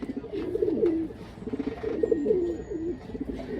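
Soft, repeated racing pigeon coos, low and throaty in gentle rolling phrases, close by with faint background noise.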